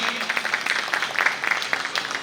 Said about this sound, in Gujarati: જોરદાર તાળીના ગગડાથી વધાવી લઈએ